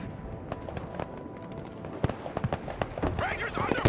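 Gunfire in the Broken Arrow war game: scattered sharp shots and short crackling bursts, fairly distant, over busy battle noise with voice chatter.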